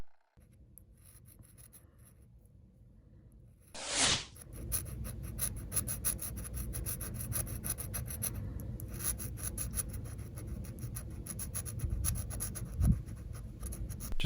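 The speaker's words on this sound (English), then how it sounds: "There's a thick film over the pins that I'm gonna have to scratch off to remove. I'm using a small flathead screwdriver" A small flathead screwdriver scrapes a thick film of grime off the pins of a dirty NES cartridge circuit board, giving close, steady scratchy rasping that runs for about ten seconds after a sharp louder scrape, with no talking.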